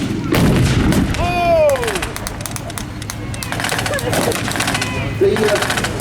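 Gunfire from a battle reenactment at a War and Peace show, with half-tracks and an anti-tank gun in action; continuous loud shooting and booms fill the scene, mixed with crowd babble and engine noise throughout.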